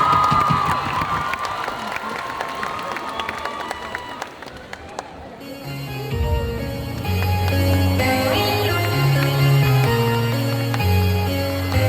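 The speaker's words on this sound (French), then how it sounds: "un tonnerre d'applaudissements pour Suzy qui fait Hatsune Miku" An audience at a group cosplay contest at a Japan convention breaks into applause and cheering for a contestant, a loud crowd roar that fades as pop music starts up and carries on.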